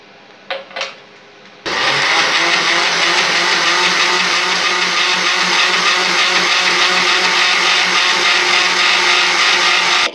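A blender whirs into a loud, steady grinding roar as carrots and milk are blended for a carrot milkshake, after a few brief clicks and handling sounds before the motor starts.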